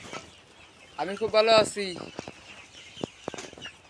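Chickens on a poultry farm holding about 2,200 birds cluck in short bursts around a person speaking close by, a louder flurry of calls in the middle and scattered clucks afterward.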